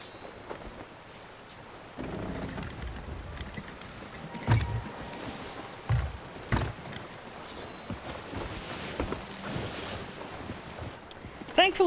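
Wind and rolling sea waves around a sailing ship in the Sea of Thieves pirate video game, a steady whooshing wash with occasional louder thumps, with some talk in the background.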